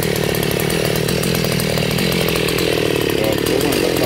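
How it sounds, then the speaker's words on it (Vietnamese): Chainsaw cutting into a eucalyptus tree near a roadside, the engine running loud and steady at high revs with a rough, buzzing snarl throughout, no voices. "Rồi chú mình bắt đầu ngồi dưới cưa nha."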